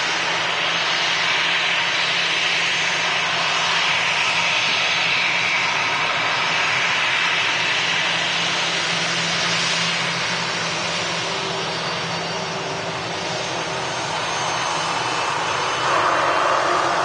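A jet airliner taxis off the runway at Manchester Airport, a steady, loud engine roar holding throughout with a slight rise near the end.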